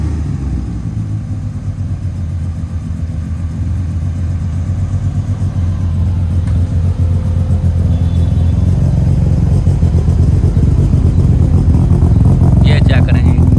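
An 850 HP Mitsubishi Evo 7 engine running with a deep, rumbling idle that builds into heavier, louder revving toward the end, close and dominant throughout.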